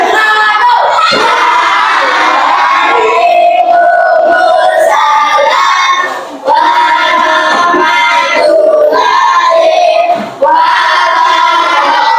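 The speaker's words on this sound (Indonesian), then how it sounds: "Tepuk tangan dulu untuk kelompoknya Nadine" A classroom audience applauds and cheers a student group during a teaching session, the clapping and shouting loud and close, sustained across the whole stretch with brief dips.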